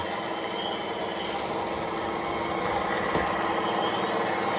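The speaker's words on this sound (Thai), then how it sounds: "ตัวนี้กำลังขุดสามารถเจาะแข็งได้เลยนะครับ เจาะดินแข็งๆหินแข็งๆตัวนี้เล่นมันได้เลยนะครับ" A Komatsu PC180LC excavator digging into hard soil and rock gives a steady mechanical whine and rumble with no voices.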